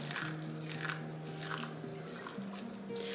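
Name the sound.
almonds being broken up by hand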